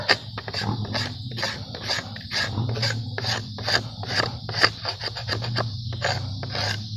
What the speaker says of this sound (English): So I do a little bit, I tested it, still needs to go, so I go ahead and scrape.